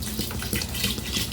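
Rice-rinsing water pours steadily out of a cooking pot into a sink, a continuous close splashing stream that lasts the whole moment with no talking.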